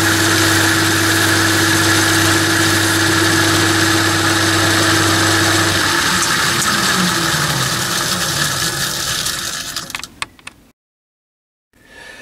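A metal lathe runs with a steady loud hum while a polishing tool works inside a bore, the tone shifting and slowing after about six seconds before the machine spins down to near silence.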